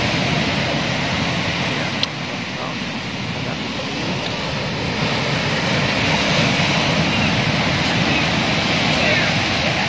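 Steady surf washes onto Jasri beach in a continuous broadband roar, loud and unbroken, with wind mixed in and no clear voices over it.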